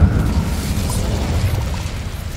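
The Incendio fire spell cast in the Hogwarts Legacy video game: a loud, low rumbling burst at the start that settles into a steady roaring whoosh.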